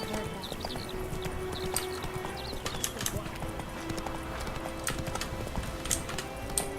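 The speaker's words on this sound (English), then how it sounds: "Whoa there, Roach." A horse's hooves clip-clop in a steady, even rhythm in The Witcher 3 video game, with game voices speaking over the hoofbeats and ambient outdoor sound behind.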